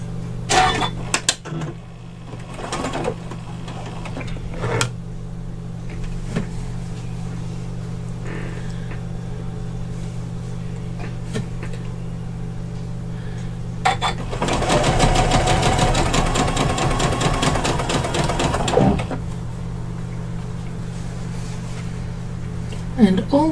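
A sewing machine stitches handles for a wire frame bag, running in short close bursts and then one longer steady stretch of rapid needle chatter over a constant low hum, with a voice talking in between.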